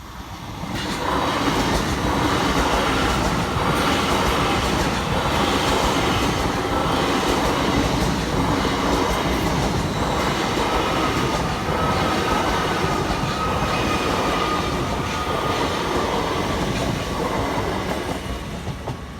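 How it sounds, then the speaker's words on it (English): A heavy freight train rumbles past nearby on a railway line at Church Lane, loud and continuous, with rhythmic clatter of wheels over rail joints throughout. "So he could be letting the freight train through."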